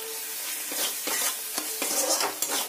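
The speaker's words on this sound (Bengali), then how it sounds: "রসুনের কাঁচা গন্ধ যতক্ষণ না যায় ততক্ষণ ভাজতে হবে।" Garlic paste sizzles and fries in oil with browned onions for a Bengali chicken curry, with repeated stirring scrapes breaking through the steady crackle, close and fairly loud, no voices.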